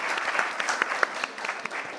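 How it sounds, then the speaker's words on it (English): Audience applause at an academic talk on interdisciplinary research, a short burst of scattered, fairly soft clapping with a few sharper individual claps standing out. "maybe a round of applause for all the hard work that you've done"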